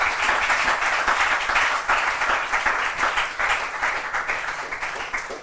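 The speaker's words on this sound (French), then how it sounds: "On acclame le nom de Jésus-Christ" A church congregation breaks into applause during a French-language sermon, dense, loud, steady clapping from a large crowd with slight swells, lasting the whole stretch.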